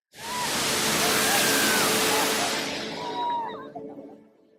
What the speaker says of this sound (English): The waves make me feel peaceful.